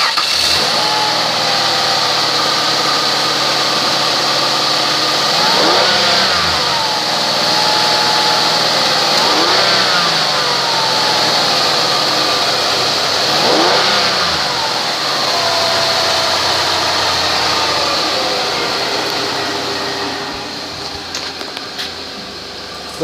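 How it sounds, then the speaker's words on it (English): A 2002 Ford Escape engine runs loud and close with a steady idle, swelling in three or four rev-like surges, then settling and fading slightly at the end. "engine run video"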